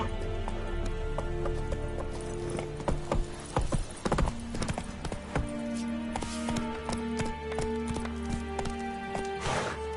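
Galloping hooves of a horse in the fantasy video game The Witcher 3, a steady rapid clip-clop drumming close and loud through the whole stretch over music, with a brief whinny.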